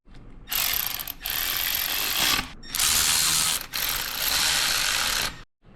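A wrench ratchets while torquing engine bolts on a Harley touring 117 VVT engine, in three loud close bursts of rapid clicking separated by brief pauses, then stops.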